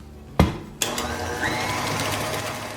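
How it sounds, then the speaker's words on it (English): Steady electric mixer whir blending pumpkin and two large eggs into snickerdoodle cookie batter, preceded by a couple of sharp knocks, then continuous close hum throughout. "I'm gonna add in my pumpkin and my 2 large eggs. And then I'm gonna just mix all that together real well."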